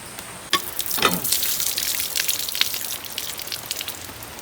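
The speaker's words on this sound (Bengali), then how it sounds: "দেখো বাইরে কি বৃষ্টি পড়ছে টুক টুক টুক টুক পড়ে যাচ্ছে" Rain falls steadily outside a village home, a continuous close patter of drops on surfaces with a few sharper splashes, heard alone without talk.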